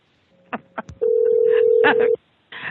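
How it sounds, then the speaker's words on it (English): Office telephones ring during a call-in forum broadcast: one steady electronic ring tone holds for about a second, with short bursts of voices before and after it. "don't mind the phones ringing"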